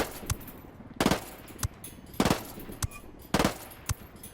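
Bursts of submachine gun fire in Ghost Recon Wildlands, four short rapid volleys spaced about a second apart with sharp cracks between, loud against a quiet outdoor game ambience.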